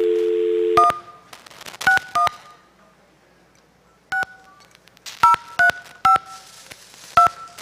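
Touch-tone telephone keys are pressed one by one after a dial tone cuts off, giving a sequence of short, clear dual-tone beeps at irregular intervals, close and loud, with no talking.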